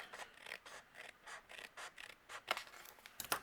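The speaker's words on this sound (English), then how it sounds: "I'm going to just trim that off." Scissors snip off overhanging cardstock at a craft table, a quick series of about a dozen close, crisp cuts in an uneven rhythm, with no talking.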